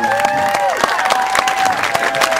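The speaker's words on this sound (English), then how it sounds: "You're applauding longevity" Audience applause with some cheering at a high school band celebration, loud and continuous, with tonal voices or sustained notes running through the crowd noise.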